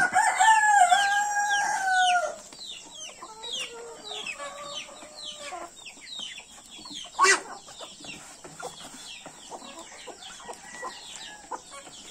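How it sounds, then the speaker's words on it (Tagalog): Chickens outdoors in a small backyard: a rooster crows loudly at first, followed by steady scattered clucking and chirping from the flock, with one sharp louder call midway. "May mga manok makain pa rin sa labas yan."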